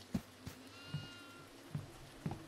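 Goat bleating in the horror video game Devour, several short faint bleats spaced irregularly over a low rumbling ambience, with no talking.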